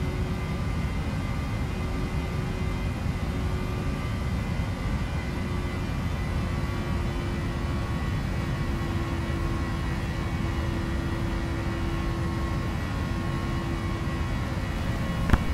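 A PMDG Boeing 737NG jet climbs out after takeoff from Catania in the simulator FSX, its engines a steady, loud, broadband roar with a faint whine that holds constant throughout, with no talking.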